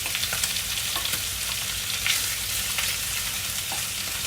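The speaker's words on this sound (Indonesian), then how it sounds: "Terus ini ada daging sama apa ini, sayur asin kita tumis di sebelah sini gitu." Meat and salted greens stir-fry in a pan with a dense, steady sizzle, broken by small scraping stirs at intervals.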